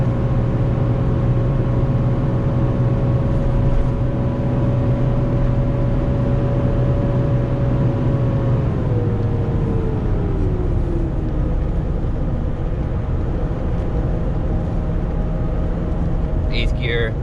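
A 450 truck climbs a hill under a heavy load, its steady engine drone and cooling-fan roar filling the cab, with a low tone gradually dropping as it shifts; constant, close and loud throughout.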